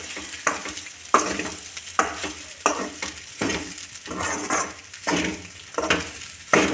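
Egg fried rice being stirred in a hot pan, with repeated scraping strokes in a steady rhythm over a soft continuous sizzle, heard up close and without talk.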